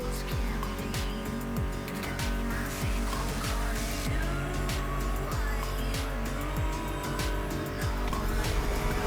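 Muscle car engines roar steadily in The Crew Motorfest, a dense, loud wall of revving and passing cars with tire squeal, layered under continuous music throughout.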